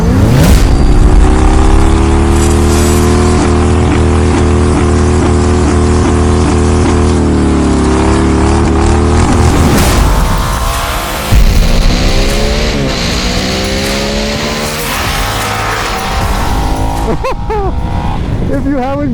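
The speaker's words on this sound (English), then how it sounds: "the party trick on the Nightster is undoubtedly the Revolution Max T engine" A 975cc Revolution Max T engine on a 2022 Harley-Davidson Nightster motorcycle revs loud and close, holding a steady high drone before dropping and climbing again through rising and falling pitch sweeps, with no pause.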